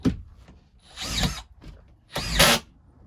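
A power drill drives screws into a drywall sheet, two distinct whirring bursts up close, the second louder and sharper, separated by short pauses with faint handling noise.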